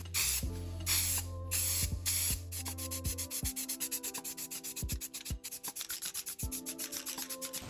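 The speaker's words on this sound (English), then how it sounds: "I'm gonna go ahead and hit this section with some primer." Aerosol primer sprays in bursts onto a bumper of a 1977 Porsche 911 IROC project car, the can's steady hiss cutting in and out as the nozzle is pressed repeatedly, close and loud, with no talk.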